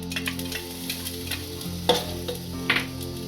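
Chopped ginger hits a sizzling pan of mustard seeds while tempering for masala dosa bites, a continuous hiss with a few sharp crackling pops and spoon scrapes, close and clear without speech.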